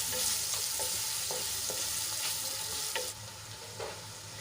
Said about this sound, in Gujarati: ડુંગળીને આપણે ગુલાબી રંગની થાય ત્યાં સુધી સાંતળી લેવાની છે।